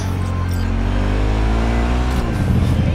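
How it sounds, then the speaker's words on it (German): Motorcycle engine from Cyberpunk 2077 gameplay, a steady loud low drone with sustained harmonics throughout, ending in a rougher, noisier burst as the bike brakes hard. "Was ich ein bisschen nervig auf dem Motorrad finde, ist, dass wenn du bremst, das immer so voll abgeht"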